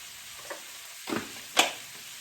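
Garlic hitting a hot pan of peppers for vegan sausage and peppers gives off a soft, steady sizzle, with a few brief louder crackling bursts as it settles into the oil.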